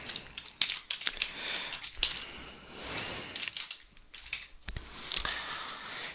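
Rapid, uneven clicking of computer keys, close and fairly crisp, with bursts of keystrokes and short pauses and no talking.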